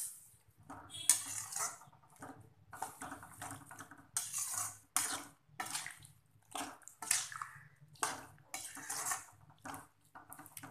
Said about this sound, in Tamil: இந்த எல்லா காயும் வந்து மூழ்கிற அளவு தண்ணி ஊற்றினா போதும்